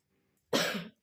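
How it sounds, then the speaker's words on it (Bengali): A single harsh, close cough bursts out after a quiet half second from someone suffering a severe cough, rasping briefly and fading out alone. "প্রচন্ড কাশি হচ্ছিল"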